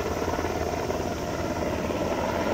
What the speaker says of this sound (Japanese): 近くを米軍のヘリコプターが飛んでますね。